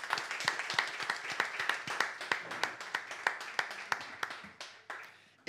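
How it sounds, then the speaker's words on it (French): Studio audience on a French TV game show claps in sparse, distinct hand claps at a steady rhythm, fairly close and gradually thinning out toward the end. "2 points donc pour Lydie qu'on peut applaudir."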